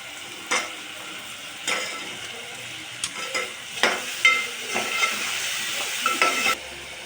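A spoon scrapes and stirs tomatoes with green chillies and salt in a frying pan, giving repeated strokes over a constant close sizzle, with no one talking.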